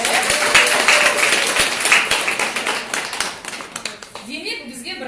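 Conference attendees in Almaty clap together, a loud, dense burst of applause that thins and fades toward the end, with speech running alongside.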